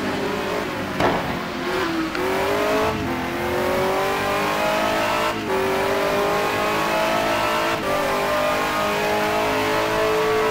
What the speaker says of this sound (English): driving the venerable Lister Storm car